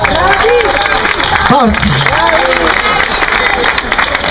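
A live audience applauds an orchestra at a Piedigrotta festival evening in a cafe, steady dense clapping filling the room while a voice shouts over it.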